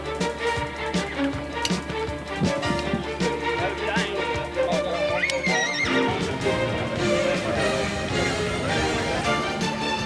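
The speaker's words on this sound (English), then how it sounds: "the entire herd of these wild ponies must be tended to." Wild Chincoteague ponies neighing and whinnying in a herd, with hooves clopping and a narrator's voice and music running underneath throughout.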